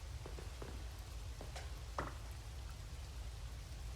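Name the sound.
rain falling in the video game Coral Island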